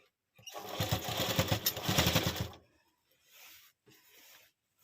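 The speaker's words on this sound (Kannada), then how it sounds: "ಹಿಂಗೇ ನಿಧಾನ ಸ್ಟಿಚ್ ಮಾಡ್ಕೋಬೇಕು" A sewing machine stitches piping onto a ready-made blouse. One run of rapid, rhythmic needle strokes lasts about two seconds and then stops, followed by a few faint softer sounds.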